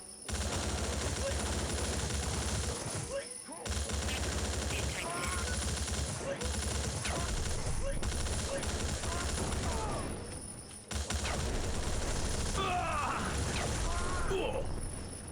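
Automatic gunfire from the video game Outcast: Second Contact, a dense continuous rattle of rapid shots running nearly the whole stretch, broken by a couple of brief pauses, with mechanical clatter and game sounds layered underneath and a voice talking over it.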